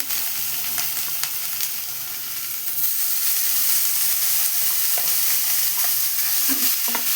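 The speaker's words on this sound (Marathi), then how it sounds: "आता मी इथे गाजराचा किस घालणार आहे" Grated carrot sautéing in hot ghee for gajar halwa, a steady close sizzle and hiss that grows louder partway through, with a few soft scrapes of stirring.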